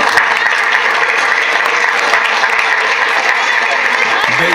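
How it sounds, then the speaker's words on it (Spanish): A crowd at a children's Minions birthday party claps loudly for the birthday boy, dense continuous applause filling the room, close and sustained throughout. "vamos a recibir con fuertes aplausos a nuestro pequeño cumpleañero"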